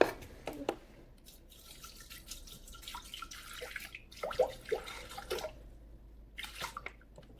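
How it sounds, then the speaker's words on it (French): Water runs and splashes into a Thermomix mixing bowl for harira, a close, trickling pour in irregular bursts with drips and gurgles and short pauses between, no talking. "on va mettre 300 g d'eau"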